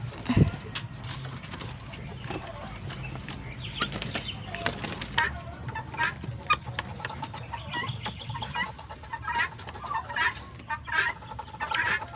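Native chickens cluck and murmur close by in a yard, with scattered wing flaps and faint voices in the background.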